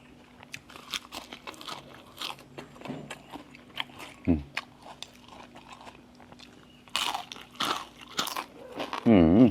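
Crisp bites into battered, deep-fried gourd, a series of sharp crunches and chewing close by, with people talking in between and a louder voice at the end.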